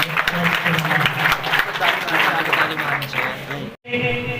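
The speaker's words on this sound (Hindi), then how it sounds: "तालियां।" Students and staff clap at a school retirement event for a principal, steady applause with voices over it, cut by a brief break near the end.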